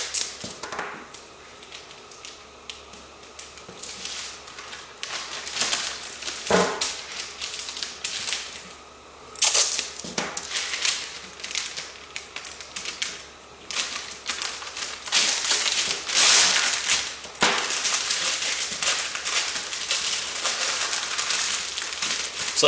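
Masking tape is pulled off the roll and pressed onto car trim, with crackly tearing and rapid tapping bursts that come and go, close and fairly loud.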